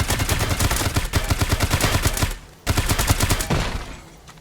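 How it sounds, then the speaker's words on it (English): Robots fire rapid automatic bursts at the player in the video game Dysterra, two loud close volleys of gunfire separated by a short pause, then a fading tail. "They're going to try to shoot me."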